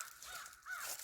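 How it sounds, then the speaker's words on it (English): Crows cawing outdoors near a sawmill log yard, a couple of harsh calls at moderate distance, with no voices over them. "Them crows are happy."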